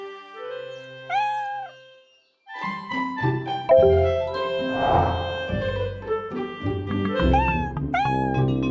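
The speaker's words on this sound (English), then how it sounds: "The kitten is meowing." A cartoon kitten meows, with a couple of separate short mews at first, then a busy stretch of music and bright sound effects with further meows near the end.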